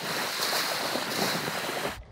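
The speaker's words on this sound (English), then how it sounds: "Waves from the boat." A boat's wake washes onto a foggy winter beach on a sandy spit, a steady rushing hiss of surf mixed with wind buffeting the microphone, ending abruptly.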